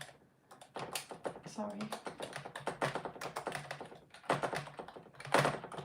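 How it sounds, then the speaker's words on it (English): A loud computer keyboard, wobbling because it is balanced on something, clatters with rapid uneven typing and sharp taps throughout, and a person speaks briefly partway through. "Oh, my keyboard's so loud."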